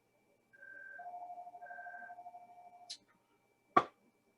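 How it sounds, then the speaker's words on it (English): A telephone rings with a soft warbling electronic trill, two overlapping tones pulsing for about two seconds at close range in a quiet room, followed by a short click and then a single sharp knock. "The freaking phone is ringing again"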